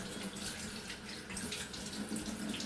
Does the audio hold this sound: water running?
yes